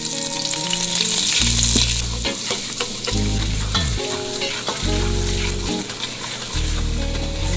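A roux of avocado oil and unbleached all-purpose flour is stirred in a pot for a potato soup, giving a steady, loud sizzle with scraping strokes, and tonal music runs underneath.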